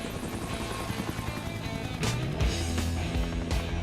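Helicopters arriving in a King Kong film scene, a steady rotor drone with low chopping pulses that grows heavier and closer partway through, with no voices.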